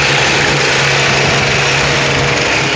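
A 2004 Chevrolet Cavalier engine runs at a rough idle, a steady loud mechanical drone with a low pulsing hum that holds unbroken throughout, heard alone with no talk.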